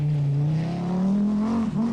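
An Audi Quattro rally car drives a forest stage of the 1981 World Rally Championship, its engine holding a steady loud drone that climbs gradually in pitch as it accelerates, with a brief dip near the end.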